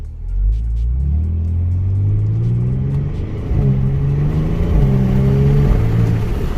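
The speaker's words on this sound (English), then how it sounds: "half throttle just like that, low RPM takeoff, and you can literally hear the turbo spool up" A 2022 Genesis G70 Launch Edition pulls away at half throttle from low RPM, its engine rising in pitch through two smooth climbing sweeps with a gear change between, turbo spooling audibly, close and loud from inside the car.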